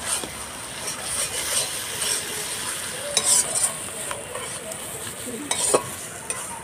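Spice masala fries in oil in a pan with a continuous soft sizzle and frequent spoon scrapes, plus a couple of louder clinks, close by with no voices.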